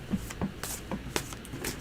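Tarot cards being shuffled by hand, a string of quick, soft, close riffling and tapping bursts at an uneven rhythm, with no one talking.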